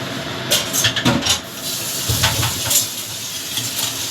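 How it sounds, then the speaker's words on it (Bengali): Thin fish curry broth with potato, cauliflower and lentil dumplings bubbling in a large pan, a soft steady hiss and burble with a few brief splashy bursts, close and moderate in level. "ঝোলটা ফুটতে শুরু করে দিয়েছে"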